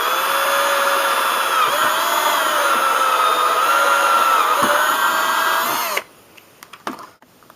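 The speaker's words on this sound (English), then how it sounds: "Drill a hole about 1 centimeter into it right about here with a 5/32 drill bit." A power drill with a 5/32 bit whirs loudly and continuously for about six seconds, pitch dipping slightly under load as it bores into PVC pipe, then stops with a few clicks.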